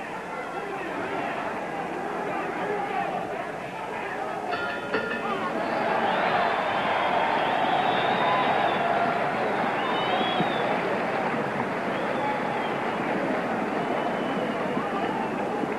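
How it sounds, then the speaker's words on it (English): Boxing crowd at a light heavyweight title bout in Las Vegas between Eddie Cotton and Jose Torres, a steady, dense roar of voices and cheering that swells louder partway through and holds at high level to the end. "the crowd is roaring"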